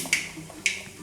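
Mustard seeds crackle in hot oil in a pan while a Kerala pumpkin and yam erissery is tempered, giving two sharp, isolated pops about half a second apart over a quiet, low background.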